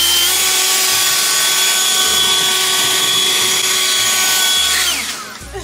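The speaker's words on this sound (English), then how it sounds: "finally got to use her leaf blower" A leaf blower runs close and loud with a steady high whine, then winds down at the end as the motor cuts off.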